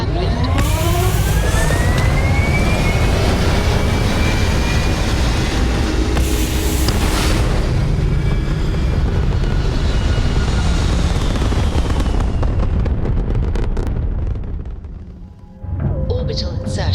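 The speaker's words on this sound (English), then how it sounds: "We have liftoff." Spaceship lifting off in the video game Starfield, a huge rumbling engine roar that swells with rising whines and holds for many seconds before cutting out abruptly near the end, with a voice heard faintly beneath.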